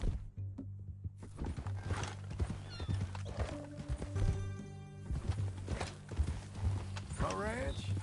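Horse hooves clip-clop along in Red Dead Redemption 2, with a horse neighing and whinnying, a steady low engine-like hum underneath and people talking over it; a bird chirps briefly near the end.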